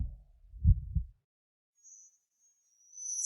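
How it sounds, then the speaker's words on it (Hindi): A heartbeat sound effect, two quick low thumps close together, then near silence and a faint high tone. "दिल की धड़कन तेज हो गई।"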